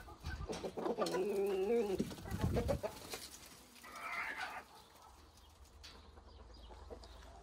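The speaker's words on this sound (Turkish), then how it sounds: "Hatta bir tanesi yumurtlamış, bağırıyor." Hens squawk and cackle loudly in a crowded backyard coop's nest box after laying, harmonic calls rising and falling in bursts, with a brief sharp squawk later before the noise settles to quiet rustling.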